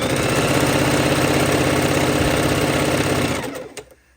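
A sewing machine runs a quarter-inch seam on quilt strips with a steady, close, buzzing motor hum and rapid needle rhythm, then slows and winds down to a stop near the end, with no talking.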